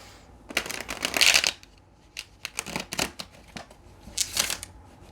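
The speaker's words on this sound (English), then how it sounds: "One more shuffle." Several bursts of cards being riffle-shuffled, close and crisp, with short pauses between each flurry and no talking.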